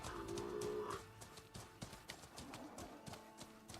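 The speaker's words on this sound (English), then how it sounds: "I will say those things gallop really weird." Mount galloping in the Horizon Forbidden West video game: a quick run of muffled hoof clip-clops pounding along, fairly near, with an odd uneven gait over a game soundscape.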